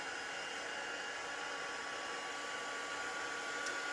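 A heat gun used for embossing blows continuously throughout, a faint, steady whooshing hum with no change in pitch.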